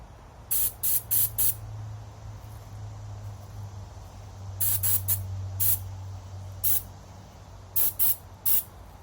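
Durablue finish sprayed from a can onto a Savage/Fox Model B shotgun part, heard as clusters of short, close hissing bursts, three or four at a time with pauses between, over a low steady hum.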